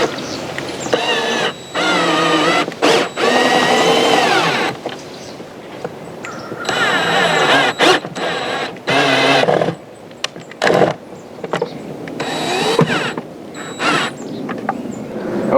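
A power tool drives screws into an Ulterx trolling motor mount, with bursts of rising, whining motor noise broken by short pauses and close clunks.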